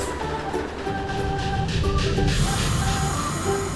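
A cartoon red and blue train from a children's song, rumbling and clattering steadily along the tracks at close range, with light tonal music over it and no talk.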